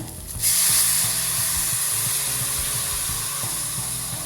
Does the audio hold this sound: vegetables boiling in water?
yes